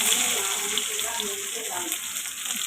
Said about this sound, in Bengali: এখন কালো জিরা ফোড়ন দেব